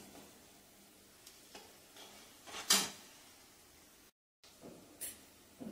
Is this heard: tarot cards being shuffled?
no